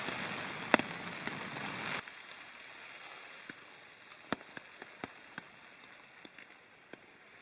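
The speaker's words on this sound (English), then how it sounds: "still you can hear the rain peppering down, not as hard" Rain pattering on a tent during a backpacking trip in the Mount Rogers National Recreation Area, a steady soft hiss with scattered distinct drop taps, heavier for the first two seconds and then lighter and sparser.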